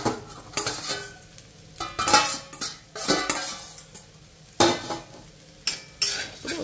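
Pre-fried bitter gourd pieces stirred in a pan with a little oil, with a soft sizzle under sharp, irregular scraping strokes of a utensil against the pan, close and alone.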